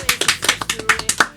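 Small studio audience clapping to welcome a guest onto a podcast set, a dozen or so crisp, close claps in a quick uneven rhythm, with no talking.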